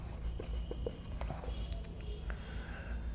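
Chalk or marker writes on a board during a class 6 algebra exercise, producing faint scratchy taps and strokes in a quiet room with low background hum.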